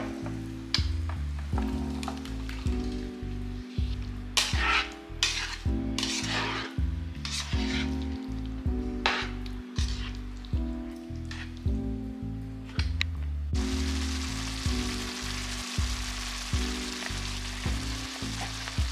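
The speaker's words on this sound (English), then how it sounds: "Add them to the pan and cook until soft and smushy." Chopped fresh tomatoes cook in a pan, softening with a steady, low sizzle and occasional stirring scrapes under rhythmic background music throughout.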